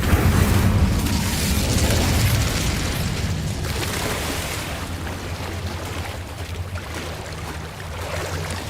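An Incendio fire spell is cast in the video game Hogwarts Legacy, a loud, sustained roaring burst of flame that starts strongest and slowly settles into a rumbling hiss over several seconds.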